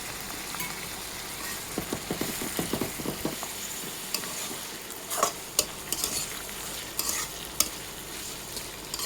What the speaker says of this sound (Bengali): গাজরটা দিয়ে ভালো করে নেড়ে চেড়ে নিতে হবে।